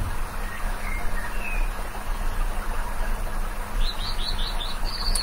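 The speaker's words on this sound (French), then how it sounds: "À l'écoute des oiseaux." Birds chirp in a run of quick, bright tweets over a steady low rumble of a flowing river.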